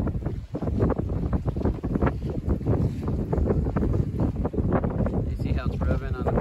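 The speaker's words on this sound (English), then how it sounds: "And the jib is starting to flog a little bit." Wind-filled jib on a sailboat self-steering with sheet-to-tiller toward Ocracoke, flogging and fluttering in irregular bursts over constant loud wind rush, with talk over it.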